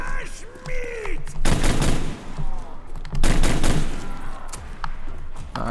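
Bursts of rapid automatic gunfire in the Call of Duty Zombies map Nacht Der Untoten, two long loud volleys mixed with game effects and groaning zombie sounds, with a player's voice talking over parts of it.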